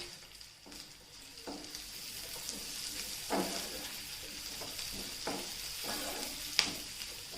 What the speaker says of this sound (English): Now add capsicum and cook for a couple of minutes.